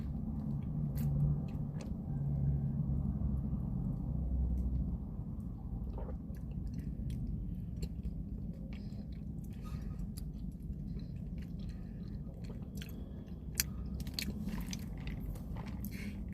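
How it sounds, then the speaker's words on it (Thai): Soft, close chewing of tapioca pearls from a cup of bubble tea, with quiet squishy bites that fade under a low steady room hum. "ไข่มุกมันแบบว่า ละลายในปากเลยนะคะเนี่ย จะกินหมดแก้วนี้ป่ะ"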